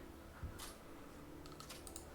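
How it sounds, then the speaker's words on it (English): Quiet typing on a computer keyboard, a few soft scattered key clicks at a distance in an otherwise hushed room, brief and faint. "Typing."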